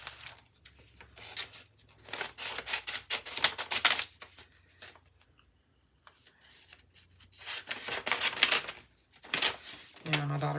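Scissors cut through a paper envelope for junk journal pages, with bursts of snipping and rustling paper up close, a quiet gap midway, then more cutting and handling sounds.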